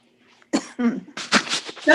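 A few harsh coughs burst out in quick succession over an online art history lecture call, close and fairly loud, ending in a rougher throaty hack.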